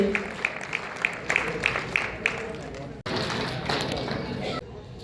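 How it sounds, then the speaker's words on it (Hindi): Audience at an award ceremony in Damoh clapping together, a dense, steady wash of applause with a few sharper claps, continuing at even loudness for several seconds before easing off at the end. "मैं चाहूंगा एक बार जोरदार तालियां पीछे तक हम सब की ओर से।"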